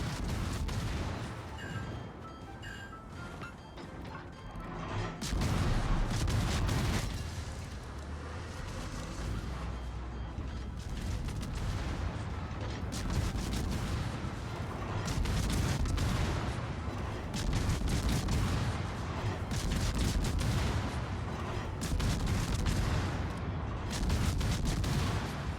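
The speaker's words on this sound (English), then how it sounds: "Currently getting blind fired by the Hipper," Naval gunfire from a Hipper cruiser in the World of Warships video game: heavy, overlapping booms roll on almost without pause, forming a loud, dense barrage that fills the whole stretch.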